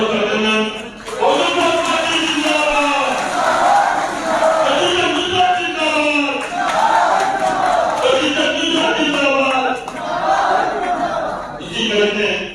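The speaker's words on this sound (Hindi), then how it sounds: "जोरदार तालियों से अभिनंदन" A large crowd at a political rally in Kanpur, cheering and shouting loudly in dense, continuous waves, with voices calling out through the din.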